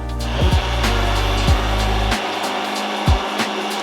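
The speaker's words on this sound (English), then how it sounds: "as the blender is going, in this case, the immersion blender is gonna go" An immersion blender runs steadily in a college culinary kitchen, a loud continuous whirring motor with several brief pitch dips and surges as it works through the mixture.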